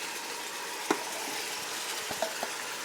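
Pork and onions frying in a pan, a soft constant sizzle with a few faint stirring clicks, quiet and close.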